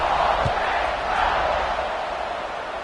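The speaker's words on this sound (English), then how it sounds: "this crowd is buzzing after that last score" A football stadium crowd buzzes and roars in a broad, steady wash of distant voices after a score, continuous for a few seconds.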